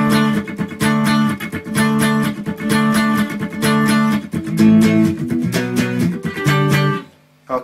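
Electric guitar plays an intro: fast, loud, steady picked riffs in repeating bursts that climb in the middle, then stop abruptly near the end.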